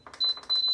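An Instant Pot gives two short, high-pitched electronic beeps close by as it is programmed for a batch of applesauce with apples, water, lemon juice and pie spice.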